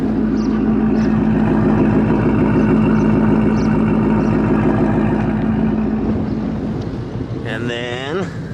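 A 2021 Ford GT500 with headers and exhaust in track mode, tuned on E85, holds a loud steady idle rumble, then fades toward the end as a voice speaks over it.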